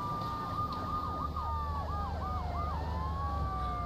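Ambulance siren in the video game GTA 3, a steady wailing tone that rises and falls in repeated sweeps over a constant rumble of engine and street noise.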